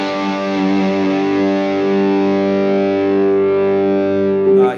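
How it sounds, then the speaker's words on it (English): An electric guitar played through two overdrive pedals stacked together, with mids and low end boosted slightly. One loud, thick, distorted chord rings out steadily for several seconds before it is cut off sharply. "Here's what they sound like stacked."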